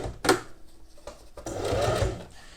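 A sewing machine stitches elastic lace trim, starting with a short burst and then running in a longer, steady close-up whir of needle strokes.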